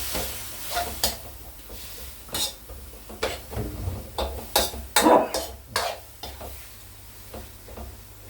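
Minced pork stir-fried in a pan for Thai herbal larb, with repeated scraping, stirring clatter and utensil knocks over a steady background sizzle, close and moderately loud, without talk.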